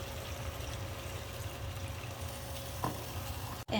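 Water poured into a hot pan of frying chicken wings coated in corn flour, a steady broadband sizzle running throughout with a brief splash of added liquid near the end and a sudden cut-off.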